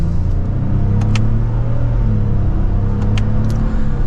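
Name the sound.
2024 Lexus GX550 accelerating in sport mode, second gear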